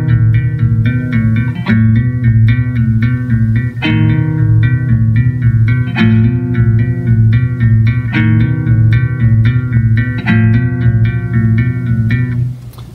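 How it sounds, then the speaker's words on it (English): Plucked guitar plays fast trilled figures over sustained notes, repeating phrases at an even pace, close and clear. "Let's look at some more of these trills with held notes."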